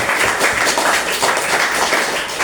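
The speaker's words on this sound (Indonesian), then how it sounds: "tepuk tangan lagi buat Bu Rani" Audience applause for a teacher, Bu Rani, at a student motivation event: dense, steady clapping from many hands, fairly loud and continuous throughout with no pauses.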